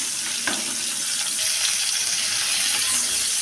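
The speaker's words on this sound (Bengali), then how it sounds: "একটু হলুদ ও একটু নুন দিয়ে পটলগুলোকে ভাজতে থাকছি।" Pointed gourd (potol) frying in a pan with turmeric and salt gives a loud, steady, close sizzle with a bright hissing wash that continues throughout, with no one speaking.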